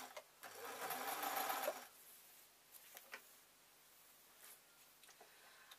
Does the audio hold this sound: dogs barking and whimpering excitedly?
no